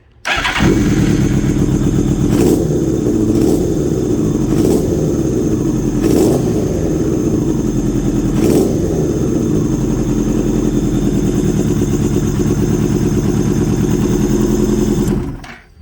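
A Yamaha R1 sport motorcycle engine running with the choke on, a loud, steady close-up drone throughout with a few sharp blips of throttle early on, then cutting off at the end.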